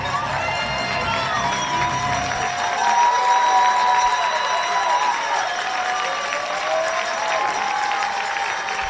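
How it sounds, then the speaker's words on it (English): A baseball crowd applauds and cheers as Will Chambers, the DH, leaves the field, a steady wash of clapping and shouts mixed with voices. "Chambers doffs the cap to the crowd, and a well-earned round of applause for the slugger"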